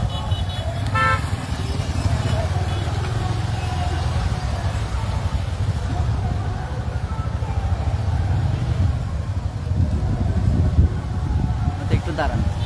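A motorcycle convoy rolls past with a dense rumble of engines, punctuated by a few short horn toots, while people talk nearby.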